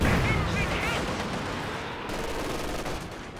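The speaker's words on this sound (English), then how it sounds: "Another long-range Katyusha." Katyusha rocket artillery fires in the Company of Heroes 2 video game, a dense, sustained barrage of launches and blasts that roars continuously and fades slightly toward the end.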